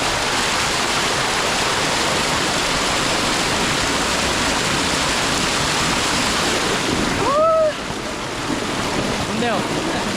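An Indian waterfall roars in a steady, loud wash of rushing water along a walking trail, with a short rising whistle-like sound near the end.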